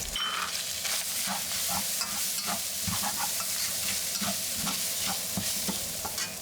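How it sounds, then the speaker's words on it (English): Chopped ginger and chili pepper sizzle in a wok for Sichuan mapo tofu, a busy crackle of hot oil broken by frequent scrapes and knocks as the spatula stirs, close and steady. "Add chopped ginger and chili pepper."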